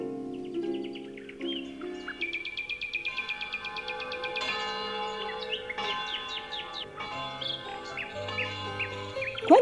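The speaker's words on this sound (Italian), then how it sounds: "nella valle suonavano le campane e gli uccellini cantavano felici" Church bells and songbirds in a mountain valley: bright bird chirps and trills layered over ringing bell tones, a busy, musical mix with no talk.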